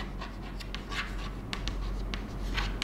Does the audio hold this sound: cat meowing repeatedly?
no